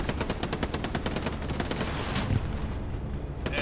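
Rapid, sustained machine gun fire in the World War II shooter Hell Let Loose on the Omaha Beach map, dense rhythmic bursts of shots rattling steadily and loudly, thinning toward the end.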